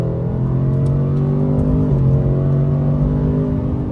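Ford Mustang S650 with old air filters reinstalled accelerating, a loud steady engine drone with rising harmonic tones as revs climb, heard close with no talk.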